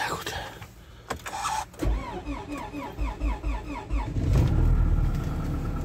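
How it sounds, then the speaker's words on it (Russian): A Honda car engine cold-starts in frost: the starter cranks in a rapid rhythmic whir for a couple of seconds, then the engine catches and settles into a loud, rough, steady running rumble nearby. "Холодный морозный запуск."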